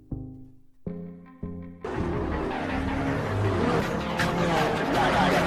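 Fast and Furious film scene where a street race begins: steady, loud roar of car engines and traffic noise builds after a brief stretch of music-like tones, continuing dense and close to the end.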